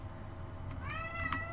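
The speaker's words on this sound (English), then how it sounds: "My cat is here." A pet cat meows softly a couple of times near a microphone, rising tonal cries set over a steady low room hum.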